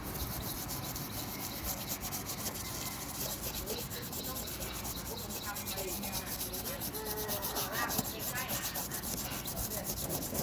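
A surface gets scrubbed with bathroom cleaner, producing a continuous, close, rough rubbing and brushing noise that stays steady and fairly loud throughout, with no speech.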